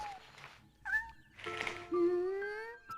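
A tiny orphaned kitten in the Shenmue video game meowing repeatedly while it eats, with several high, drawn-out mews, one after another, close and clear, with faint background sound.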